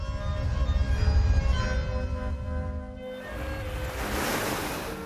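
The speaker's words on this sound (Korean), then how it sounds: "파도는 쉼없이 청명한 바람을 몰고 찾아옵니다." Sea waves wash onto Hwajinpo beach in Goseong on Korea's east coast, a continuous close surf roar mixed with wind. The rush eases briefly before a fresh wave swells in toward the end.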